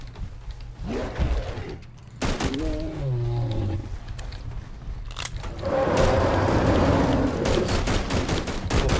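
Bursts of gunfire shooting at Bigfoot on the hard-mode winter map of the video game Finding Bigfoot, with sharp rapid volleys and a growling creature roar in between, loud and close with no talking.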